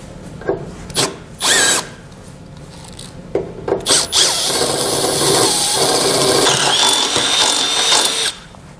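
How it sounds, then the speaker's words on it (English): A power drill with an 11/16 bit enlarges rivet holes during a Curt trailer hitch installation on a 2019 Ram 3500. Short whirring bursts come first, then one long, loud grinding run with metallic squeal. "we'll need to enlarge the holes using an 11/16 drill bit"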